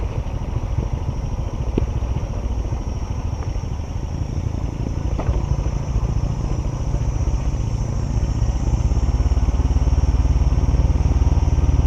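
A Honda CT 125 motorcycle rides on a mountain road with its engine braking, a loud, continuous close-up drone that grows slightly stronger toward the end, with no talk over it.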